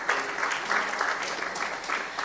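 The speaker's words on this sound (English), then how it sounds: "A big round of applause, please." A room full of guests at a charter award ceremony applauds as certificates are handed out, a loud, continuous wash of clapping hands that stays even from start to finish.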